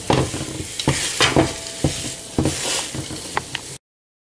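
Dates and nuts are stirred in a hot pan off the heat, with a loud close scraping and thudding of the spoon in uneven strokes over a soft sizzle.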